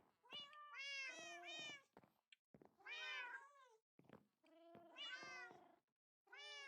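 Black cats in the Minecraft video game meow repeatedly, several clear, close, drawn-out mews in quick succession separated by short pauses, with no talking.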